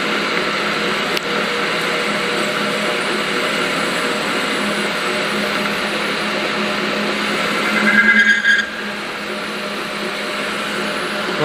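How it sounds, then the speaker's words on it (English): Lathe cutting a groove into a workpiece, a steady broadband machining whir holding throughout with a brief louder, rougher surge near the end as the tool bites deeper. "we can make the groove on the workpiece material, which is also one of the basic operations which can be performed with the lathe"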